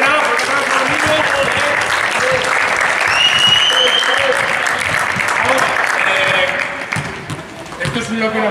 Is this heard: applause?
yes